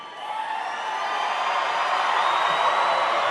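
Sustained cheering rises from a big rally audience in Greeley, Colorado, a broad roar of massed voices with scattered whoops that builds slightly louder as it goes on.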